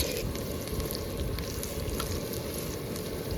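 Onion frying in hot oil, a dense crackling sizzle that holds steady and close throughout, ending with a brief dip.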